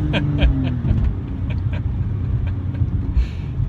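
Engine drone from a 2003 BMW E46 M3 SMG accelerating, a steady close rumble with a rising tone early on and scattered clicks and knocks over it.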